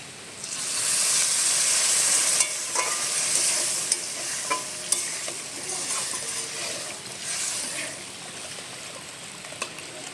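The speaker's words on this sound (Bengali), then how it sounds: "সব কিছু মশলার সাথে বেশ সুন্দর করে আলুটা কষে নিয়েছি" Potatoes cook in spices in a pan for a Bengali fish curry, and a spoon stirs and scrapes steadily over a hissing sizzle. Sharp metallic clinks of the spoon on the pan repeat throughout, close and loud, with no speech.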